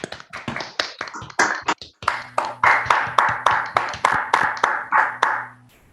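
A small audience at an academic workshop plenary session claps for a speaker: a few scattered, crisp claps, then a tighter run of distinct, fairly rhythmic hand claps over a faint steady hum before it stops.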